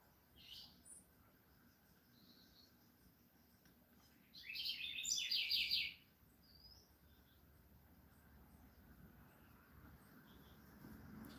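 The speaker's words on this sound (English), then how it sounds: "So it has some birds. I hear them making noise, but they're not far away." Small birds chirping outside near a neighbor's balcony, a quick burst of high twittering calls around the middle, with a few fainter chirps before and after over a quiet background.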